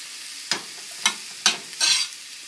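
A utensil stirs seasoned meat pie filling in a frying pan: three crisp scrapes spaced evenly apart, then a longer sizzling scrape, close and fairly loud, with no talk.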